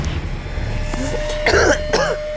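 A man coughs and clears his throat a couple of times in a tense night scene from a crime drama, short rough bursts close by with no speech over them.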